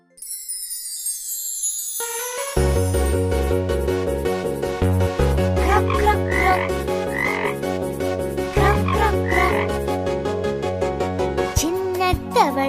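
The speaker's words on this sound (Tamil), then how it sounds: "சின்ன தவளை குட்டி தவளை, சின்ன வாலுள்ள குட்டி தவளை. Greg Greg Greg Greg Greg Greg." Cartoon frogs croak in a bouncy animated children's rhyme, a rhythmic, evenly spaced series of loud croaks over cheerful music with tinkling notes, after a short sung introduction.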